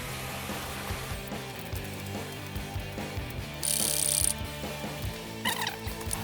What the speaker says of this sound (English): And you can see how I'm applying it is using this pump sprayer.